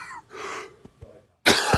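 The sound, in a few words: coughing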